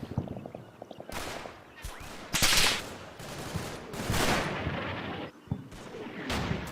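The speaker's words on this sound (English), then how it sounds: "those Germans are firing back at me" Combat Mission: Battle for Normandy, a World War II video game, plays bursts of German gunfire and artillery-like blasts. The volleys are dense and irregular, with several sharp, heavy cracks among the sustained rattling fire.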